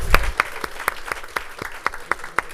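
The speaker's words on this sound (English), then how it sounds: "Let's round of applause." Audience applause at an agriculture conference, heard as sparse, distinct claps at a steady pace rather than a dense ovation, moderately close.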